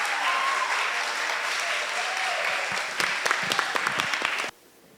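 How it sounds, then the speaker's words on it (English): An audience at a primary school dance festival claps for the performers, a full, sustained round of applause with a few sharper claps near the end before it cuts off abruptly. "Please give them all a round of applause."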